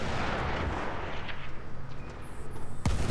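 A Battlefield 1 tank cannon fires amid continuous booming battlefield noise, with one sharp, loud blast rising near the end over the rumbling din.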